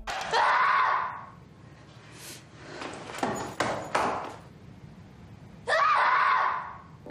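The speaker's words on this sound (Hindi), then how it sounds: "कुछ यूँ चीखती है" A woman screams twice in a drama scene set at a classroom door. Each shriek is loud and close, with a stretch of sharp clatters and knocks between the two.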